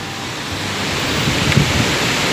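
Steady rain falls again, a dense, even hiss that fills the scene at constant strength with no voices.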